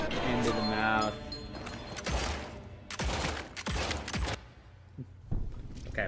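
Gunfire in the Western vampire-hunting video game Evil West, with several sharp shots in quick bursts, a rapid double tap, loud and close over game effects and crashing impacts.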